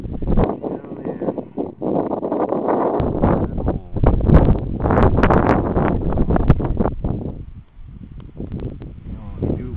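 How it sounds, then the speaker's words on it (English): Strong wind buffets the microphone outdoors during a metal detecting outing, roaring and rumbling steadily throughout with gusty swells, loud and close, and no clear speech above it. "I hate the wind."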